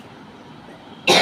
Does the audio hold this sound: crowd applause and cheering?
no